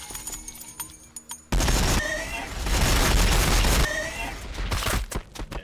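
Squads exchange gunfire in a Warhammer 40,000 video game: loud, sustained volleys of rapid shots mixed with heavy booms, coming in dense bursts separated by brief lulls.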